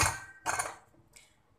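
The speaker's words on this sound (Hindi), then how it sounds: "इसमें हम ढक्कन लगा देते हैं" A metal lid set onto a pressure cooker of boiling beans and potatoes, three short metallic clanks and clicks close by, the first two louder, with no talk.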